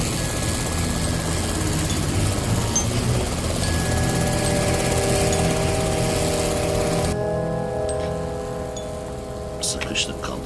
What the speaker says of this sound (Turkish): Abi, helikopter yanımızda. Yakın uçuyorlar.